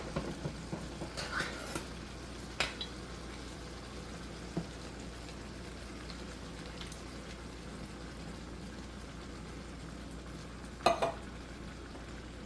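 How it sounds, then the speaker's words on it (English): Diced tomatoes sizzling in a hot pan on medium-high heat, a steady low frying hiss with occasional utensil clicks and scrapes, moderately faint and close. "then we're gonna add the diced tomatoes"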